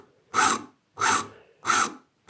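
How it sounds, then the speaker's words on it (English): A saw rasp cuts a 45-degree bevel along the edge of a wooden stool part in four steady, even strokes, each a harsh, close rasping burst followed by a short pause. "we're going to go with the rasp, the saw rasp now"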